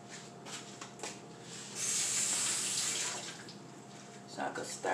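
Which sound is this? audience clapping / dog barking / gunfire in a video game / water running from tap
water running from tap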